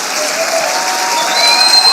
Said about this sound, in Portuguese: Vamos aplaudi-lo mais uma vez.